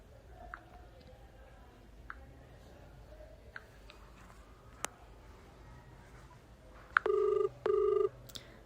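A telephone rings twice in quick succession near the end, loud and electronic, after a stretch of quiet faint clicks and movement.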